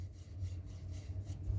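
Sandpaper rubbed back and forth by hand, likely on a pistol part while reloading or refinishing, giving a steady, close, continuous abrasive scratching with soft rhythmic strokes and no talk.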